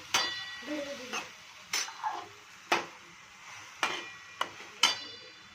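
A spoon stirs moth beans (matki) in a pan, giving a series of sharp scraping clicks and taps in an irregular rhythm, close and fairly quiet.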